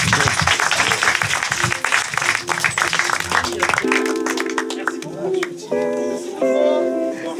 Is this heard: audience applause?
yes